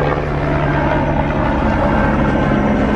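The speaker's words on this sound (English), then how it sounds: "Bloody helicopters." Helicopters fly over a busy tourist area near a boat, making a loud, continuous droning whir with a steady rotor hum that holds for the whole stretch, with no voices over it.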